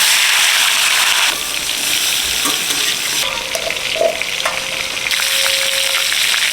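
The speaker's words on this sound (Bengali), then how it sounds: "সরিষার তেল দিয়ে দিলাম মাছের মাথাটা ভেজে নেব" A catla fish head fries in mustard oil with a loud, close, continuous sizzle and spatter. The sizzle eases partway through, and a few clinks and brief tonal squeaks come through.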